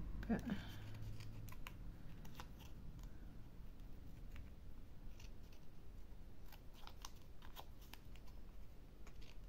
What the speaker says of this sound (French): je vais recouper juste un petit peu ce qui dépasse